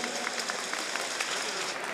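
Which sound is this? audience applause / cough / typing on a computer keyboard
audience applause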